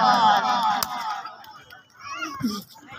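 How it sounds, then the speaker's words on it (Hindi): Spectators at a kabaddi match in Punjab, Pakistan, raise a loud cheer and clapping that swells then fades, overlapping an announcer's excited voice. "टोरी साहब जोरदार तालियां तमाशाई जोरदार तालियां।"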